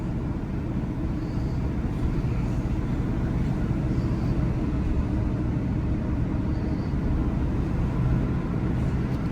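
Chevrolet Silverado SS pickup on its first drive, with a faulty MAF and trouble shifting into second gear: a steady low engine and road drone from inside the cab, loud and continuous throughout, with no talking.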